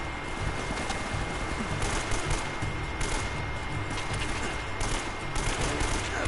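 Rapid, sustained bursts of AK assault rifle fire in Uncharted: Drake's Fortune, dense and continuous over a noisy background.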